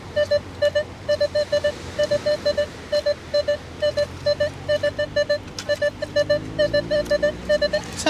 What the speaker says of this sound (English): the detector's telling me there's something right on the surface here